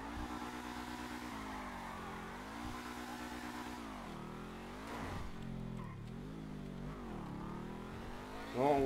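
A Dewbauchee Seven-70 sports car drives in GTA 5, its engine droning steadily, then revving up and down through gear changes with a rising snarl near the end.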